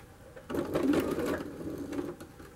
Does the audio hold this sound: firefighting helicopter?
no